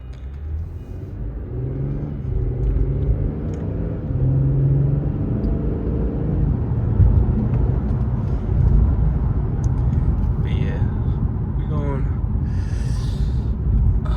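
A 2018 Infiniti Q50 with the 3.0t engine on the move: a steady, loud low rumble of engine and road noise runs throughout, with a faint rise in pitch near the end.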